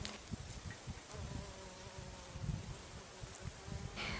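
A leafcutter bee buzzes close by at a dogwood in a quiet outdoor setting, its drone wavering in pitch as it hovers and moves around.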